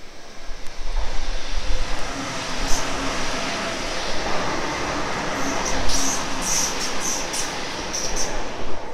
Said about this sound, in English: Approaching, we have a B set and a Waratah. The B set is stopping, but the Waratah isn't.